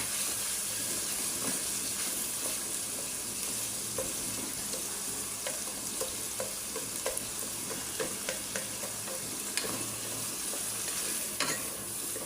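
Vegetables for restaurant-style chow mein stir-fry in a hot pan, a steady, dense sizzle with frequent scraping and stirring knocks throughout, close and loud, with no talking.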